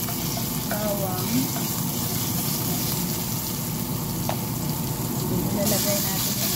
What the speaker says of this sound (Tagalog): Maglagay tayo ng giniling na bawang.